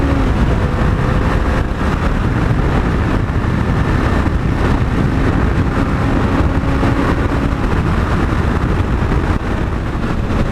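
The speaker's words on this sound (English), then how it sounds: "Acceleration up onto the freeway." A Honda CB500X motorcycle, built up as a rally raid bike, accelerates up a freeway on-ramp. The engine drone is buried under heavy, constant wind roar from a helmet or on-bike recording, loud and steady throughout.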